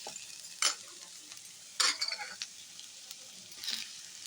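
Boiled, smashed potatoes are stirred in a pan with spices for aloo palak paratha, making a few short scraping and stirring bursts over a faint, quiet sizzle.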